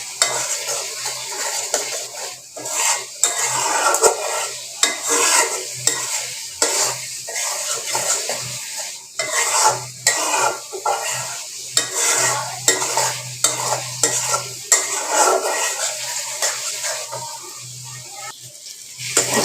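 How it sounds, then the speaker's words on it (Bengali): Spice paste for an egg rezala sizzling in a pan while being stirred, with repeated scraping strokes of a spoon against the metal over a constant frying hiss, close and fairly loud, no talk. "আমি আরেকটু কষাবো"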